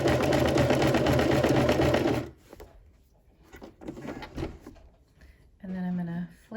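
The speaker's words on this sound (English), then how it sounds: "So let me sew a little bit more down." Sewing machine stitching down a shirt collar, a loud rapid mechanical chatter for about two seconds, then stops amid quiet handling noises before a short burst of motor hum.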